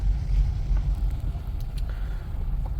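A taxi car driving on a road, a low steady engine and tyre rumble heard from inside the cabin, continuous throughout.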